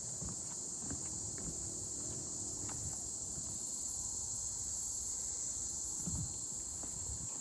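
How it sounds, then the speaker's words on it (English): A loud, steady chorus of crickets and other insects fills a marshland by a dock, with a few soft thumps and footsteps underneath. "All of these insects. Not a bad kind of loud, though."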